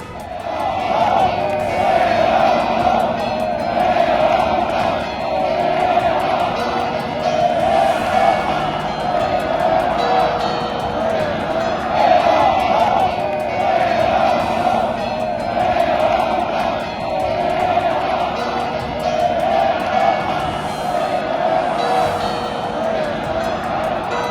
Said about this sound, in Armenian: Հավաքված քաղաքացիները վեհափարին դիմավորել են ծափահարություններով եւ վեհափար վանկարկումներով